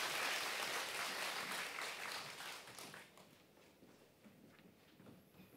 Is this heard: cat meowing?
no